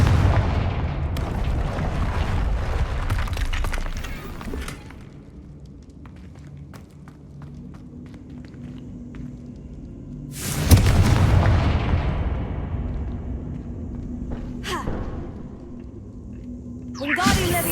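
Hogwarts Legacy's Confringo blasting spell sets off booming explosions, a sharp close blast midway followed by a rumbling decay, with softer bursts before and after amid other game sounds.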